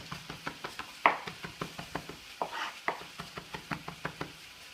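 A knife chops raw garlic on a cutting board for chimichurri, with a steady run of crisp, close taps in quick rhythm and one sharper knock among them, and no voices.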